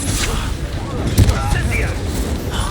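Incendio fire spell cast in the video game Hogwarts Legacy during a duel, a burst of fiery impact with a brief loud thump midway over a dense, busy battle mix while a voice talks.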